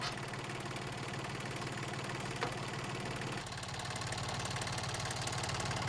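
Old farm tractor engine running steadily in a field, its mechanism jammed by tall grass; a continuous mid-to-low mechanical drone with a harmonic hum, steady and fairly close, with no talk.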